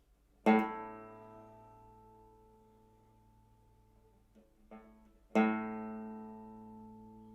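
Two separate plucks of the fifth string of a six-string banjo, each bright note sustaining and gradually decaying in a quiet room.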